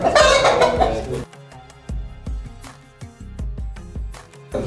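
Chickens and a rooster cluck in rapid, uneven bursts, with a louder squawking cry at the start; close and alone, no talking.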